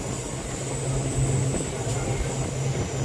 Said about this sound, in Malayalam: ട്രെയിനിൻ്റെ സ്പീഡ് കൂടിയിട്ടോ